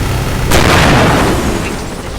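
A video-game grenade goes off as one loud, close boom with a sharp onset. Its broad, rumbling blast decays slowly over the next second or two.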